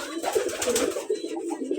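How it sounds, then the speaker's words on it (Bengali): Soft, continuous cooing from white pigeons kept in a coop, layered calls from more than one bird, close and moderately loud, with no voices present. "সবাই ডাকাডাকি করতেছে।"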